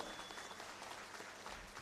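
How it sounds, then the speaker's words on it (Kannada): Applause from an audience at a political gathering in Bidar greeting Nikhil Kumaraswamy, a dense, steady wash of clapping heard at some distance and fairly faint, with no voices over it. "ಅವರಿಗೆ ಜೋರಾದ ಚಪ್ಪಾಳೆ."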